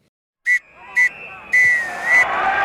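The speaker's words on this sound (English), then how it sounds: "The referee blows his whistle, bringing an end to the proceedings here in this festival of podcasting." A football referee blows his whistle to end a match: two short sharp blasts, then a long drawn-out one, with crowd noise rising underneath.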